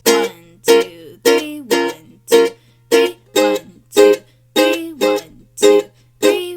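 Ukulele chords strummed in a steady waltz-like three-count pattern, each stroke bright and ringing before briefly fading, about a dozen strokes, with a voice counting along over the playing.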